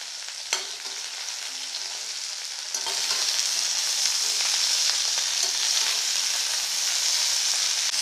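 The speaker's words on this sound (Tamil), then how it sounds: "இப்போ இந்த பிரண்டை, கருவேப்பிலை எல்லாமே நல்லெண்ணெயில் நல்லா பதக்கியாச்சு." Pirandai and curry leaves sautéing in sesame oil for chutney, a steady close sizzle that grows louder partway through, with occasional stirring scrapes and no talking.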